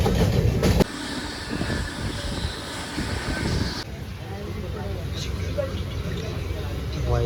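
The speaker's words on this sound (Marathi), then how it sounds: "आपली गाडी आली जयपूर एक्सप्रेस." Jaipur Express passenger train running on the rails at a station, a loud rushing roar with rattling wagons that drops abruptly to a quieter steady rumble and hiss, with people talking nearby.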